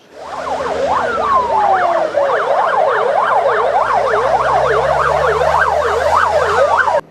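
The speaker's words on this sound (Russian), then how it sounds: "7 бригад выезжают на тушение." Fire engines set off to a fire during an emergency services drill, with several wailing sirens overlapping loud and near, rising and falling quickly over a steady vehicle rumble.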